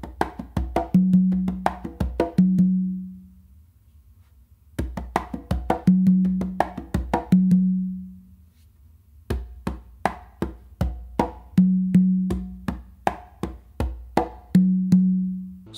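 A songo groove on two congas repeats three times, with sharp slaps and muted strokes punctuated by resonant open tones on the tumba, loud and close with brief gaps between cycles.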